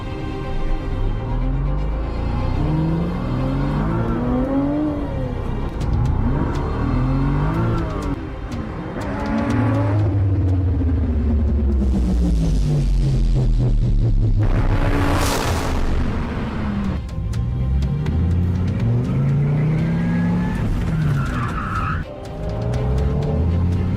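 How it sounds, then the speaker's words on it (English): An exotic car with a loud performance exhaust drives past: engine revs rise and fall through gear changes, with a sharp roaring burst as it passes close, and the exhaust note stays strong and loud throughout. "I'll go by real quick so you can hear it, because the exhaust is pretty good on this."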